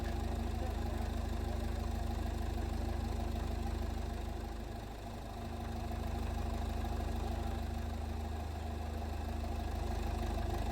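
A backhoe engine idles in a steady low drone as it prepares to lift a two-foot gauge steam locomotive boiler, holding close and even with a brief dip midway.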